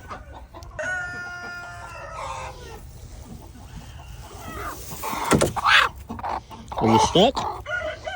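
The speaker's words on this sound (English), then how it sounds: "There's another chicken in there." Hens cluck and squawk close by, one stuck in a small hole, with a brief crow-like call early on, scattered movement and knocks, and a person speaking briefly amid the fowl noises.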